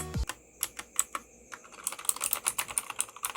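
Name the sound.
Gigaware K550 mechanical keyboard blue switches clicking while typing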